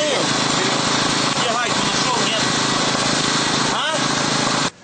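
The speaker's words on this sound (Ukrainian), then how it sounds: "мотор ревет" A motor roars loudly and steadily throughout a high-pressure race servicing stop, a continuous engine drone that cuts off abruptly at the end, with a voice speaking over it.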